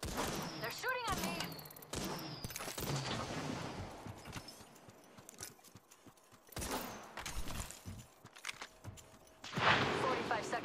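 Enemy gunfire in a video game crackles in scattered bursts, some loud and close, others fainter, with gaps of quieter game noise between volleys.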